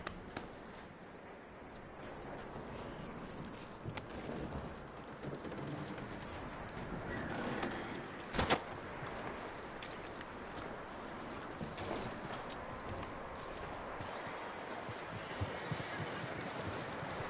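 Steady horse hooves clip-clop through a Red Dead Redemption 2 game scene, a continuous rhythmic trot under wind and ambient outdoor noise, with one brief louder knock midway and no voices.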